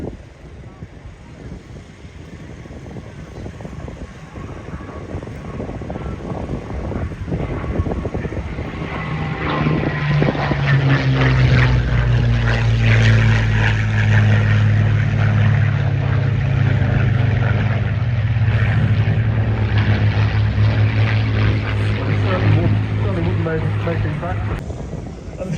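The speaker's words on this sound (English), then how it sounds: "I think the Messerschmitt might actually try to land. He's got enough smoke coming out." A Messerschmitt fighter at an airshow, trailing smoke, drones overhead with a propeller engine that swells from a distant hum to a loud, sustained growl, shifting in pitch as it passes, over wind buffeting the microphone.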